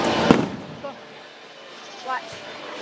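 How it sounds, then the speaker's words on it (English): Fireworks at a July 3rd show in Duluth, Georgia, with one loud nearby boom followed by fainter crackling bursts further off, and people talking through the display. "Watch the fireworks."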